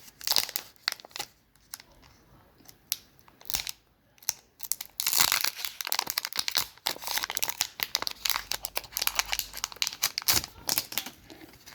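Crinkly plastic of a Pokémon trading card booster pack wrapper being torn open and handled up close, a run of sharp crackles and rustles that grows denser and louder in the second half, with no talking.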